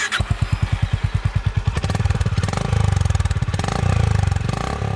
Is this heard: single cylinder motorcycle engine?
yes